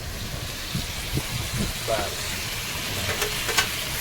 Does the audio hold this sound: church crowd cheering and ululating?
no